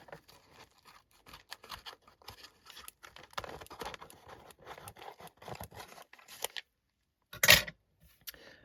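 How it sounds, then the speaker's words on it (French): Scissors snipping and slicing open a cardboard mail parcel at close range, a series of brief crisp cuts and rustles with a louder tearing burst near the end. "ma paire de ciseaux et on va ouvrir ça"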